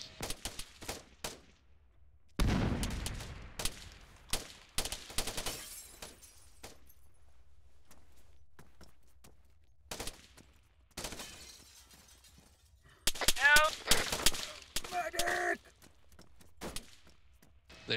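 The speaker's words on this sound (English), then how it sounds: "They are shooting back." Gunfire in Arma 3 crackles in scattered bursts, sharp bangs and brief rapid volleys separated by quiet gaps, with a dense flurry of shots near the end and people talking intermittently.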